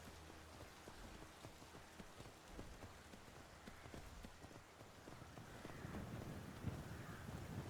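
Horse hooves clip-clop steadily while riding in Skyrim, a rapid, fairly faint, even rhythm over a constant wash of rain-like noise, with no talk.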